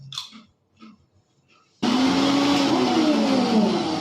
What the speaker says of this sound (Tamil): ஸோ மிக்சியில் தனித்தனியாக அரைக்கணும்.